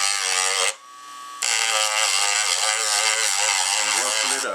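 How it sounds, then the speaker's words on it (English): A Dremel rotary tool whines steadily at high speed while roughening and grooving a composite RC aircraft part for epoxy, cutting out briefly after a short burst and then resuming in a continuous buzzing drone. "So I have my Dremel tool here. So what I'm going to do is kind of dig into this"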